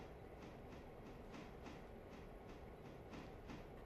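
A train rolling over track in the railroad simulation game Railroader, with a steady rhythmic clickety-clack of wheels over rail joints repeating under a continuous rumble, no voices.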